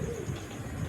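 A pair of pigeons coo softly in a short, low, murmuring burst that holds steady for under a second, with no voices.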